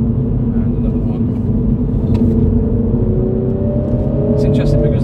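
A 2021 MINI Cooper S (F56 facelift) driven in sport mode on tight, twisty roads gives a steady engine rumble with a rising rev toward the end, heard from inside the cabin.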